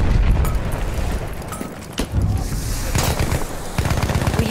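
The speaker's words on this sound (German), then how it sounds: "Ich werf eine Granate, aufpassen!" Gunfire and explosion blasts from a grenade in Battlefield 1 on PS4, loud and sustained with sharp cracks, one strong blast near the two-second mark and a rumbling, dense battle din throughout.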